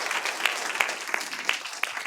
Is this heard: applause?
yes